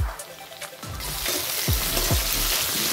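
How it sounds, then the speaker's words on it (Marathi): Curry leaves dropped into fried onions in a hot pan burst into a loud, crackling sizzle that builds and holds close by, with a few sharp pops and no speech. "इथं आपला कांदा फ्राय झालेला आहे, त्याच्यामध्ये मी घालून घेतो एक कढीपत्ता।"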